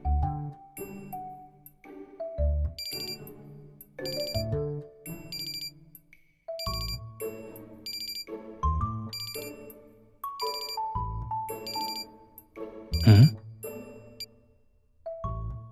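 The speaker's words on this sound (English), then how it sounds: "Oh, that's an alarm I set." An in-game alarm from the Love and DeepSpace video game rings out as a series of bright melodic chime tones in repeating bursts with short pauses between them, fairly soft and heard without any talk.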